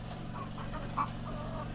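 Laying hens kept in a home backyard setup cluck quietly over a steady low hum, one brief clearer call standing out midway.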